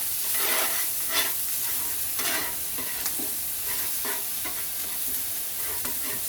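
Mee goreng noodles fry in oil in a pan while being stirred and spread around, giving a steady close sizzle with repeated scraping strokes and no talking.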